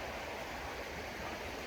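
A small stream on the Appalachian Trail runs under a little footbridge, giving a steady, even rush of flowing water, soft and continuous with no other sounds.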